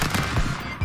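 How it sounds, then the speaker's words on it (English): Rapid bursts of gunfire in the stick-figure fighting video game Stick Fight crackle loudly and densely for under a second, with no voices. "Stop shooting, man."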